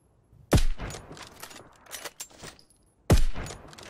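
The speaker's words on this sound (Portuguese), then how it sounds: "o tiro silenciado ficou muito massa" Two sharp, suppressed gunshots about two and a half seconds apart, each with a quick echoing tail, with faint clicks and shuffling between them, in the video game Knives Out.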